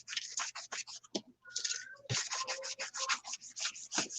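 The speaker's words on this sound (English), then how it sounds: "take a sanding block and scratch it all up" A sanding block scratching across the surface of a vinyl LP record, making a close, loud run of rough rasping strokes in quick rhythm with a couple of brief pauses.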